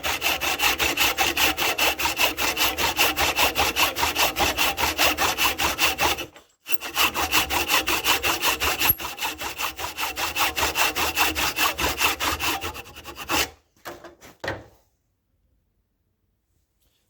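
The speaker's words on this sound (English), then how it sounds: "I've sawn down the end of the wood there" A hand saw cuts down through a piece of wood clamped in a vise, with fast, even back-and-forth strokes. The sawing pauses briefly, resumes, then tapers off into silence.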